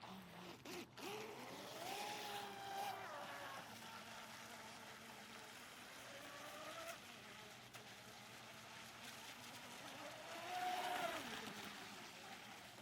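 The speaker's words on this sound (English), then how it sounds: "Let's see what this boat does in the water." A Pro Boat Blackjack 24 Heatwave RC catamaran runs on water on its first outing, its faint whining motor rising and falling in pitch as it passes at a distance beneath quiet background noise.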